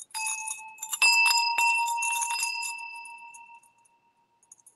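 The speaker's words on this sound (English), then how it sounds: "Brass apple bells. I think they have a really nice sound." Brass apple-shaped bells from a sale of household goods ring together in several clear, sustained metallic tones of different pitch, struck a few times in quick succession and then left to decay slowly into near silence.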